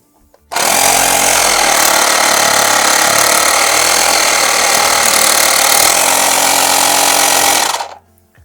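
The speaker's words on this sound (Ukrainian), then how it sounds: "Ну і тепер послухаємо, як працює спочатку компресор." The 12-volt tyre compressor built into a STHOR 82953 car vacuum cleaner switches on and runs loudly and evenly for about seven seconds before cutting off, a dense close mechanical rattle with no talk.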